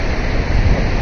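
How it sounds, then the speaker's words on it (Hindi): Wind blowing near the Chenab river on the way to Kishtwar, Jammu and Kashmir: a steady, loud roar of gusting air buffeting the microphone, broadband and continuous with no other sounds. "इधर हवा थोड़ी चल रही है, इसी वजह से आवाज़ थोड़ी कम आएगी"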